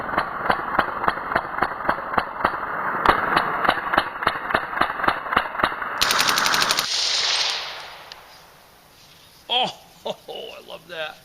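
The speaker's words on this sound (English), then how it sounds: "since it runs in semi, yeah, it also runs in full auto" A 300 AAC Blackout rifle fires on full auto, a loud, close string of rapid, evenly spaced shots that stops abruptly, followed by a few isolated bangs after a quiet pause.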